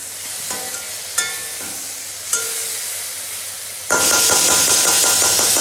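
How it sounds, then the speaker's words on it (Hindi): Okra frying in an iron kadhai sizzles steadily with a few sharp spattering pops and metal clinks, then surges into a loud, dense crackling hiss as the oil flares up. "लोहे की कढ़ाई में बन रही, देखो भिंडी की सब्ज़ी"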